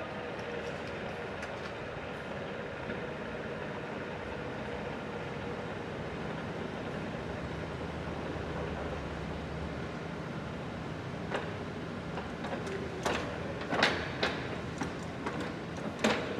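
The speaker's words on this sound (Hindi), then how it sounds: "Right now the machine is at its minimum speed of 18 rpm." TOS FA5V vertical milling machine turning at its minimum spindle speed of 18 rpm, a low, steady mechanical hum and rumble with faint ticking and a few sharper clicks toward the end, no talking.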